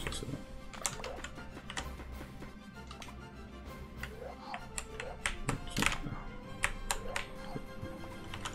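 Computer keyboard keys tapped in quick, irregular bursts during a game of Overcooked, close and crisp, over a low background hum with occasional louder clacks.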